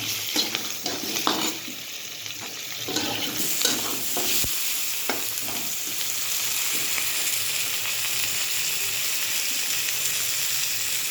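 Tomato and spices, including cumin, fry in a pan, giving a constant close sizzle with scraping stirs over the first few seconds before the frying settles into an even hiss.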